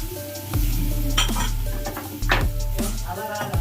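Sweet potato sizzles steadily in hot ghee in a pan while a utensil stirs it, scraping and clinking against the metal in a few strokes over a continuous close frying hiss.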